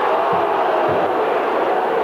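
A Wigan rugby league crowd reacts as opponents Featherstone score a try in a 1989-90 match, making a loud, dense, continuous roar with a few low shouts rising out of it.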